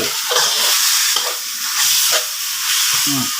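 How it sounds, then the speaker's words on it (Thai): Bean sprouts and tofu stir-frying in a hot pan, a loud continuous sizzle and hiss that swells in waves as the food is tossed, with no talking. "คนก็ผัดถั่วงอกอย่างเดียวก็ต้าหู้แค่นั้น"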